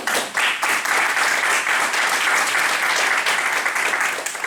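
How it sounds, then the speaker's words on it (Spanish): A hall audience at an evening talk on women in music applauds the speaker, a steady, full round of clapping sustained from start to finish without pause. "Los aplausos les ruego que los guarden para ella, que es la que se lo merece."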